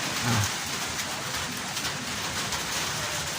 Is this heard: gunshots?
no